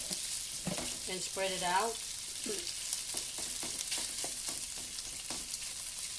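About a pound of shrimp hits a hot pan and sears with a loud, continuous sizzle, while a person talks briefly over the crackling spatter.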